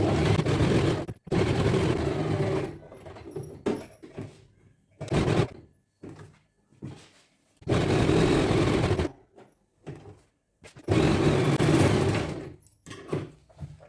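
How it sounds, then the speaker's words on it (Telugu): A sewing machine stitches lehenga jacket fabric onto its lining in several bursts of about one to two seconds each, with quiet pauses and small handling clicks between runs. "మనం స్టిచ్చింగ్ అనేది వేసేసుకుందాం."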